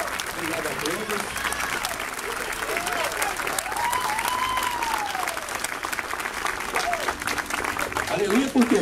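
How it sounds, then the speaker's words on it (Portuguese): Wedding ceremony guests applaud in a dense, steady round of clapping that fills the room, with voices rising over it and a cheer swelling near the end. "Vamos dar um aplauso mais maravilhoso e inesquecível."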